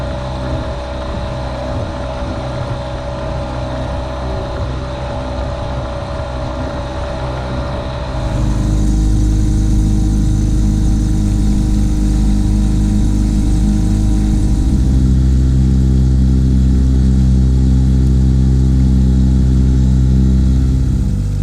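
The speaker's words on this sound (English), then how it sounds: "So I rowed offshore and then started a little outboard to make my life easy." A small outboard motor on an inflatable boat runs steadily on Loch Etive, loud and close, its droning hum stepping up in pitch and strength partway through as it revs higher.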